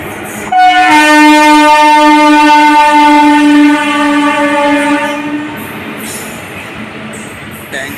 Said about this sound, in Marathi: त्यानंतर थोड्या वेळात परत विरार ट्रेन येईल